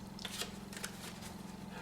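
Playing cards riffling through an overhand shuffle, with light, quick papery flicks and a few sharper snaps repeating over a steady low hum, close and fairly quiet.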